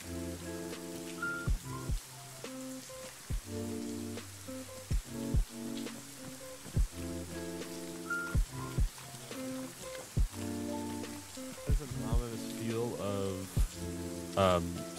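Steady rain patters over a town in the video game Arma, a soft hissing layer running beneath stronger tonal sounds and bursts that come and go.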